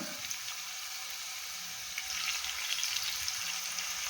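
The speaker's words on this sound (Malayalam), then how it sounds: "ആ ഒരു രീതിയിൽ നമുക്ക് ഇത് പൊരിച്ചെടുക്കണം" Fish pieces frying in hot oil for a pickle, a steady hiss and crackle of sizzling that grows a little louder and busier partway through, with no voices.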